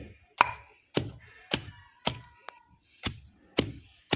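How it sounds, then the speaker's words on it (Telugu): Rasa karpuram, an Ayurvedic ingredient, pounded to a fine paste in a stone mortar: eight sharp, evenly spaced thuds about half a second apart, close and distinct against a quiet background. "బాగా దంచాలి మెత్తగా అది వరకు బాగా దంచాలి ఈ విధంగా దంచుకుంటూ"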